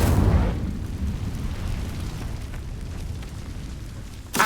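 Incendio fire spell cast in a Harry Potter video game, a loud fiery whoosh bursting at the start, then a low rumbling burn that trails off before a sharp crackle at the end.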